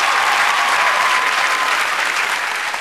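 Steady audience applause for a singer at a pub singing contest show, dense and continuous, with a slight fade near the end.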